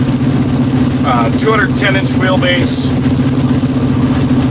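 A 2012 Ford T800 truck with a 330-horsepower Cummins ISM engine and unbaffled dual exhausts idles with a steady low diesel rumble, close and constant, while someone talks over it.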